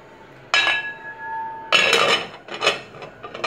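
Rice being stirred in a cooking pot of boiling water, with clear metallic clinks and scraping of a utensil against the pot in a few close bursts, no talk.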